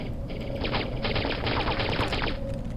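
Rapid gunfire in an early alpha build of Half-Life crackles as a dense, continuous burst of close shots for roughly two seconds over a steady background hum.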